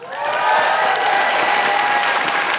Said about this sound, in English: keep that applause going, only builds it